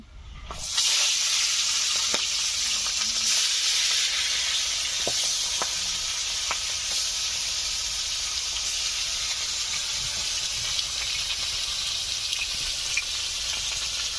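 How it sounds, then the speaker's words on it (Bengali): Fish sizzling and spitting as it fries in mustard oil in a wok on a stove, a steady loud hiss lasting throughout with scattered sharp pops and crackles, and no voices. "এই মাছগুলো এখন ভেজে নিচ্ছি।"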